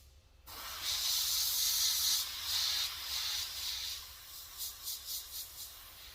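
An airbrush sprays paint in a close, steady hiss that holds for a few seconds, eases, then breaks into a series of short rhythmic bursts.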